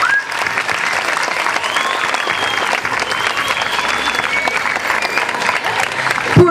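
Steady audience applause at an outdoor school flag-raising ceremony honouring the project coordinators, a dense, even clatter of many hands lasting throughout, with faint voices mixed in.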